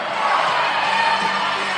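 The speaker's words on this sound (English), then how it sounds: "as her fans are cheering her on" Roller derby fans at a Dallas Derby Devils bout cheer and shout in a steady, loud crowd roar that continues without a break.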